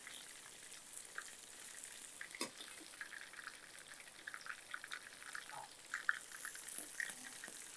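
Pieces of cooked chicken go into a frying pan and crackle with a steady close sizzle, with brief stirring clatter and a few sharper pops near the end.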